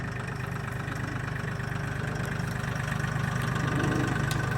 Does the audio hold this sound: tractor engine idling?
yes